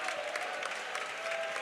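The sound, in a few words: congregation clapping hands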